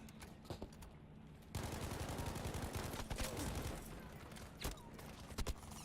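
Dense automatic and single-shot gunfire from a Battlefield V 8v8 squad conquest match on PC, with bursts and volleys crackling continuously and growing louder after a brief lull, plus a few sharper nearby reports.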